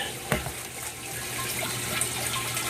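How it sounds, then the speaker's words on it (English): A small aquaponics pump trickles water in a steady, soft dribble, a continuous faint wash of flowing water with a light splash near the start. "The small pump in there, and it just dribbles down"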